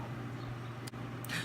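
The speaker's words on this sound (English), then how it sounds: "Sorry about the fan" An electric fan runs in a hot room, giving a steady, low, faint whirring drone throughout, with a couple of brief small clicks and no talking.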